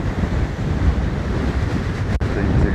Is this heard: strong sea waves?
yes